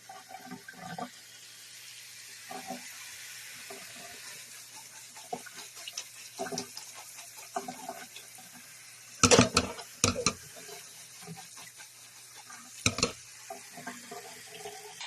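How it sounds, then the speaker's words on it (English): Freshly harvested dandelion buds are rinsed under running tap water, with soft intermittent trickles and splashes and a few louder bursts of spray at a sink. "now all I'm doing is just rinsing them off really well with fresh water."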